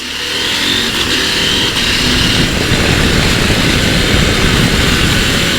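A loud, steady engine roar runs throughout, with a rough low rumble and wind rush, as a 2024 Husqvarna Norden 901 motorcycle pulls hard at speed.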